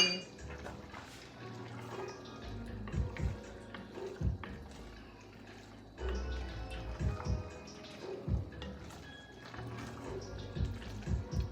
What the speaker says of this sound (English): You're gonna stir it in, make sure it's evenly in there.